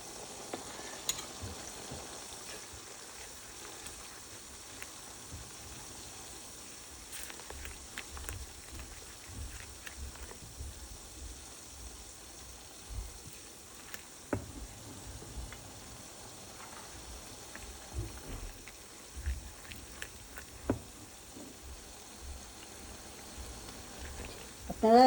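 Spices such as chili paste and turmeric paste frying in a pan and being stirred, a faint steady sizzle with occasional scrapes and clinks of the spoon scattered through the long stretch.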